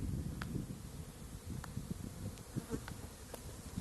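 Bees fly around beehives at an apiary near blooming sunflower fields, a soft continuous buzzing hum with faint wind and rustle in the background.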